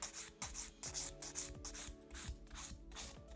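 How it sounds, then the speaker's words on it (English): Nail file beveling a fingernail down toward the tip during a manicure, quiet and close, a steady back-and-forth rasping in quick, even strokes with no talk. "My fifth step in filing is turn the nail around from the client's angle and bevel down towards the tip"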